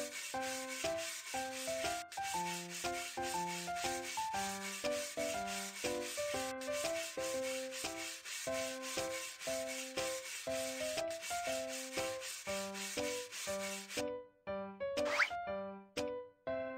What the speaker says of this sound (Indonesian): Bak mandi ini kotor. Ayo gunakan sikat untuk membersihkannya.